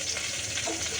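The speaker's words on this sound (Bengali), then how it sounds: "এই যে এখন এটা মাথাটা ভাজা হবে" Fish heads frying in oil in a pan give off a steady, moderate crackle that runs evenly through one short second, with nothing else breaking through.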